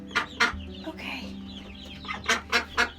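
A broody hen clucks in a farm coop, with bursts of sharp, close clucks and a rooster-like call, separated by short pauses of quieter background.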